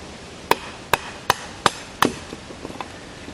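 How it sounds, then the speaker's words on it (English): Five sharp, evenly spaced chopping strikes as a budget knife bites into a piece of dried wood, followed by a few fainter, smaller taps; close and alone with no talking. "we put this knife on our nice piece of dried wood"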